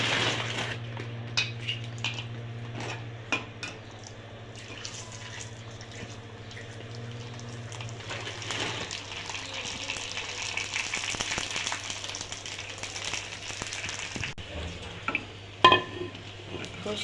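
Fuchka puris frying in hot oil in a kadai, a steady broadband hiss of bubbling oil over a low constant hum, with scattered clinks and a sharper rise in sizzle partway through.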